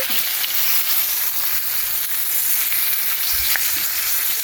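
Chicken frying in a cast iron skillet gives a loud, steady sizzle throughout, with a brief soft knock near the end as a piece is turned over; no one speaks.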